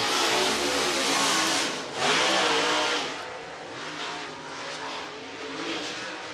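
A race car runs laps on the speedway at Whynot Motorsports Park, its engine roaring loudly and rising as it passes close, then fading slightly into a sustained drone.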